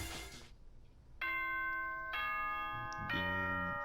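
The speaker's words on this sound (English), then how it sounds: "Ding dong." A doorbell-like ding-dong chime from the video game Danganronpa sounds as sustained bright tones in successive steps, loud and clear with no talking.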